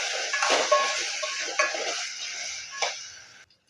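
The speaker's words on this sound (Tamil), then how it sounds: "இப்போ இதை நல்லா வதக்கி எடுத்துக்கலாம்" Okra (lady's finger) sautéing in a pan, cooked with salt for a spicy tamarind curry: a steady close sizzle with several sharp scraping stirs and light clinks of a spoon against the pan, then it cuts off abruptly.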